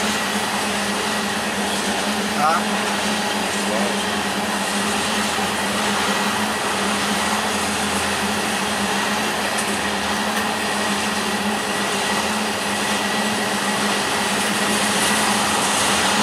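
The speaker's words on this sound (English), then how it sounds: "That train's all full of oil." A freight train of oil tank cars rolls past with a continuous, steady rumble and rail noise lasting throughout, with one brief spoken interjection.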